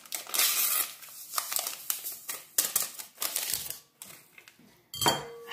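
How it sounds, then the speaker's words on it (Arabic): Rapid clattering whisk strokes beat a sugar mixture in a bowl for coconut dry cookies, loud and close in uneven bursts with brief pauses between, no one talking. "اخلط بالفوي نورمال"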